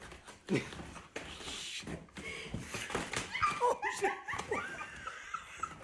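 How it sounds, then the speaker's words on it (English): A dog whines and yips in rising, pleading squeals while begging for a sausage, the cries close and fairly loud, broken by brief pauses and mixed with faint background voices. "It's just the fact that the dog wanted the sausage so badly."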